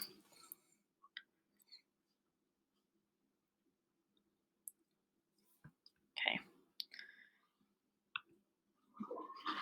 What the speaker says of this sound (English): first I'm going to double click on that